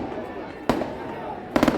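Fireworks go off at an election victory celebration in Churu: two sharp bangs about a second apart, the second breaking into a quick crackling burst, over a steady murmur of outdoor crowd noise.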